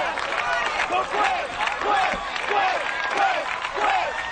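An American Ninja Warrior arena crowd chants a competitor's name in a rhythmic, repeating pattern, a broad roar of many voices pulsing about every half second under an announcer talking.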